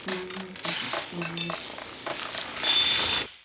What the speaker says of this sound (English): all of the sounds used are taken from sound effects of cooking, pots clanging, fire sizzling